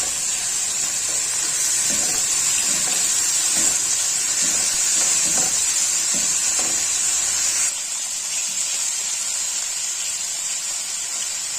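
Chicken and finely chopped carrots fry in a pan for a samosa filling, giving a steady, loud hissing sizzle that runs continuously with no talk.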